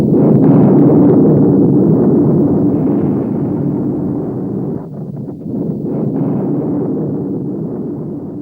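Nuclear chain reaction explosion, a loud sustained roaring blast that slowly fades and rumbles for several seconds, heard alone.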